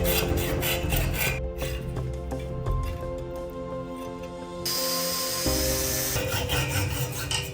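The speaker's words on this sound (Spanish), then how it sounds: "Ahora debemos cortar de esta forma el eje para que el rodamiento pueda girar libremente." Metal axle shaft being cut to free a bearing for a homemade spring and flywheel motor crankshaft, a continuous rasping, grinding rub with brief pauses and changes in pitch, heard close and alone.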